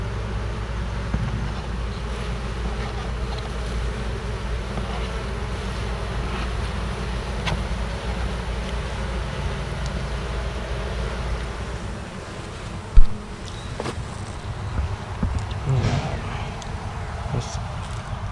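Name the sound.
honey bees buzzing during a hive inspection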